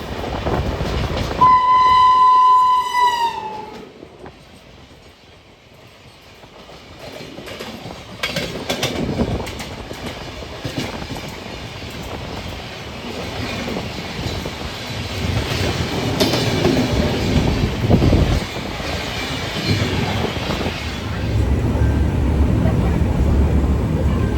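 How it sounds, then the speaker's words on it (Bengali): The Kolkata–Udaipur City Ananya Superfast Express sounds a loud horn blast, then rushes past with a rising roar and rhythmic clatter of wheels on track that continues steadily for a long stretch. "সামনে থেকে আসছে Kolkata Udaipur city Ananya superfast express"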